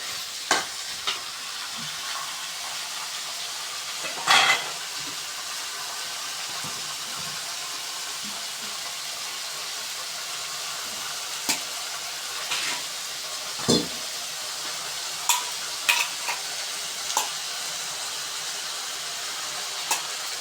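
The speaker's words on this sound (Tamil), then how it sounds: "எல்லா காய்கறியும் நல்லா வதங்கிட்டே இருக்குது" Green brinjal and mixed vegetables sauté in a pan with a soft, continuous sizzle and hiss, broken by occasional stirring scrapes and clicks, with no voices.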